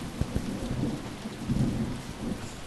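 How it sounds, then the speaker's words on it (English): Thunder in the video game Animal Company, a low, steady rumble with a rain-like hiss throughout and a few soft thumps near the start, no voices. "Yeah, I said the thunder."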